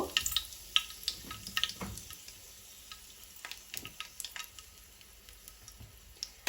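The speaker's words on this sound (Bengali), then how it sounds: "বেগুন ভাজা এই তেলের মধ্যেই আমি দুইটা শুকনো মরিচ" Two torn dried red chillies hit oil left over from frying brinjal, giving a sharp crackling sizzle with scattered pops and utensil clinks, loudest early and then settling.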